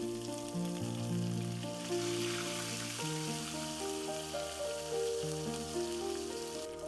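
Fish frying in hot oil in a wok, a steady close sizzle with a bright crackling hiss that holds on throughout without talk, while the oil keeps spitting and bubbling evenly around the pieces.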